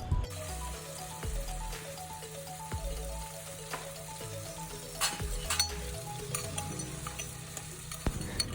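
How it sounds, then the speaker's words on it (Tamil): Crab curry (nandu kuzhambu) keeps sizzling steadily in a pan after water is poured in, and a spoon scrapes and stirs it every few seconds with faint clinks. The sound is close and fairly quiet, and no one speaks. "தண்ணி ஊற்றின அப்புறம் எல்லாம் கிளறி விட்டுட்டு"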